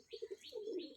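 Close, soft cooing from a pigeon, a few quick low pulses followed by a longer rolling coo, with no other sound.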